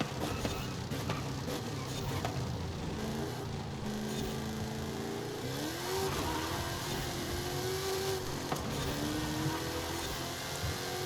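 A race car engine in Forza Horizon 5 hums steadily, its pitch climbing and dipping through gear changes as the car accelerates on track, loud and continuous with no voices over it.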